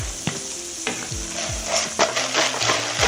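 Pork belly sisig sizzling in a pan while a utensil stirs and scrapes it, repeated knocks and scrapes over a steady close fry, no voices.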